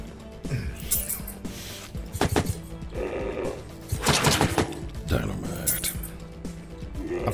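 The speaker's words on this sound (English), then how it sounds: "I'll just shoot this bush then" In the video game Project Warlock, a gun fires at a bush, giving a few sharp, loud shots spaced apart over game music and clinking effects.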